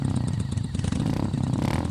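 A motorbike riding along a forest road at night, with a loud, low, continuous engine drone and some rattling, close by throughout.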